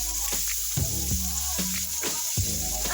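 Ground sausage frying in a pan, a steady close sizzle with light clinks and stirring scrapes over a constant hiss.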